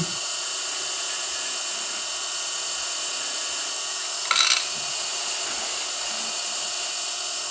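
A lathe turning tool pushed into a small spinning wooden ornament gives a steady, close, broadband whirring hiss throughout, with a brief harsher scraping burst near the middle as the cut bites deeper.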